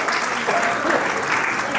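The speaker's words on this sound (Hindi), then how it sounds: "जोरदार तालियों से बच्चों को थोड़ा प्रोत्साहित कीजिए, एनकरेज कीजिए।" Audience clapping at a play school annual day event, steady applause from a crowd throughout, with a voice faintly heard beneath it.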